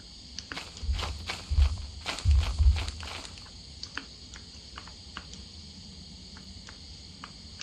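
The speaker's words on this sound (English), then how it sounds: "I hear a forest giant." Heavy, deep thuds of a forest giant walking in the game Lethal Company come in a brief cluster of footsteps over a faint backdrop of insects, followed by light scattered ticks.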